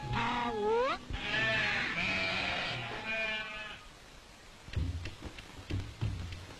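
Sheep bleating on hillside pastures near Kullu, several clear, close calls in the first few seconds, followed by fainter bleats and rustling.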